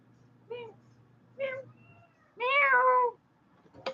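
A house cat meows several times indoors, three short close calls followed by a longer, louder drawn-out meow and a brief final chirp, with a person speaking softly between them.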